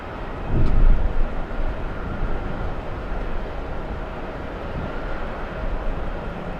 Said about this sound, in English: Delta 657, we have this one flying in from Salt Lake City